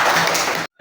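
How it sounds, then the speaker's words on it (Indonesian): Classroom of young primary-school children clapping for a classmate, a dense burst of hand claps close by that cuts off abruptly into silence. "Bagus, tepuk tangan untuk Kari."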